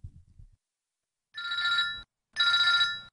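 A telephone rings for an automated call to a cell phone: two loud, clear electronic trilling bursts separated by a short pause, heard up close after a brief low thump, with no talking.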